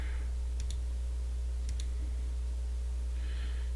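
Two quick pairs of sharp computer mouse clicks, close and crisp, over a steady electrical hum while modeling a hub template in CAD software.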